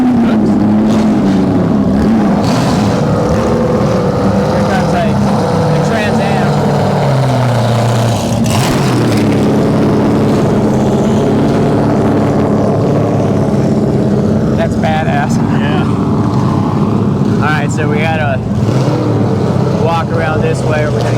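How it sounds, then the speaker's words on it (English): A Trans Am class race car at Circuit of the Americas roars loudly past with a non-stock exhaust, engine note rising and falling amid other passing cars, while spectators talk over the din. "Here comes the Trans Am."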